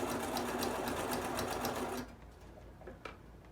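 A sewing machine runs steadily and loudly, stitching a wig track onto a cap, then stops abruptly partway through, leaving a quiet room with a faint click.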